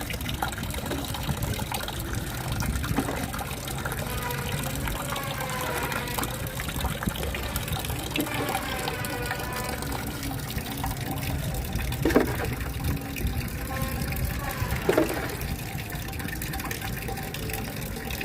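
Liquid fertilizer of rotted oil cake mixed with water trickles and splashes onto potted plants, poured in small repeated doses with gentle gurgles and a few sharper spills, close by and steady throughout.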